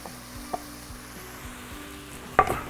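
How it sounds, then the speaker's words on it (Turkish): Chopped onions sweat in a pan for the Turkish dish imam bayıldı, giving a soft steady sizzle with a faint stir or clink near the end. "Soğanları terlemeye bırakabiliriz."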